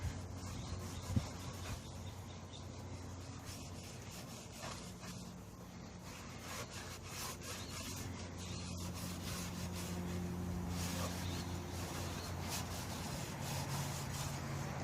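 Steady scrubbing of a dirty bus air filter on a 1963 GM PD4106 bus conversion, a continuous brushy rubbing texture with a faint low hum underneath, fairly quiet and unbroken throughout.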